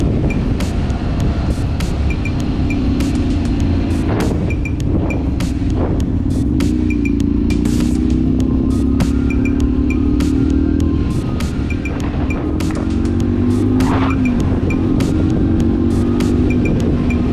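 A Honda Varadero 125 motorcycle engine drones steadily while riding, its pitch rising and falling with shifts, loud and close over constant wind rush.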